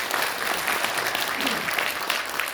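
Audience applause at the launch ceremony of a Korean progressive platform party, a steady dense clapping from a sizeable crowd that holds for the whole stretch.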